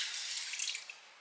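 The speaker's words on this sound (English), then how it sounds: "I'm gonna get my water and my beauty sponge and I'm just gonna damp" Water hisses and trickles softly onto a beauty sponge as it is dampened, a brief, bright, close splash with a few tiny drips toward the end.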